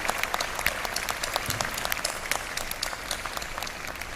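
An audience gives the Lady Mayoress a round of applause, brisk scattered clapping from a modest crowd, continuous and fairly close with no voices over it.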